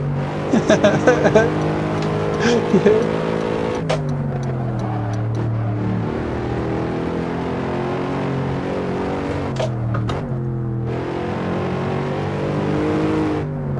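A Mercedes SLS AMG race car engine in a racing video game, steady harmonic drone that shifts pitch with gear changes and revs, loud and continuous for the whole stretch with a voice over it at the start.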